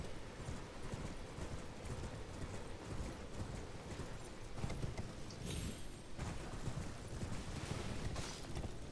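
Hooves clop rapidly as a goat-like creature moves in the Elden Ring video game, a dense, continuous patter of hoofbeats over game ambience at moderate loudness.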